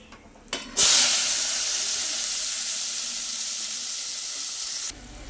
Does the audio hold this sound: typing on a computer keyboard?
no